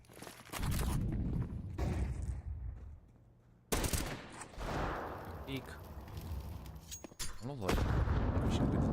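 Rapid gunfire from a Counter-Strike match, including Desert Eagle pistol shots, sounds in loud bursts and sharp reports under continuous excited talk from a caster.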